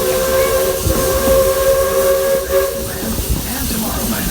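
A Walt Disney World Railroad steam train lets out a loud, continuous steam hiss, with steady whistle-like tones running underneath and a few faint clanks.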